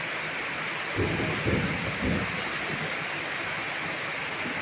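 Heavy late-afternoon rain pours down steadily around a tile-roofed house while a few deep thunder rumbles roll through close together, with no talking.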